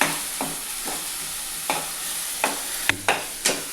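Green chillies and curry leaves frying in hot oil while being stirred, a continuous sizzle broken by several sharp scraping strokes of the spoon against the pan at irregular intervals.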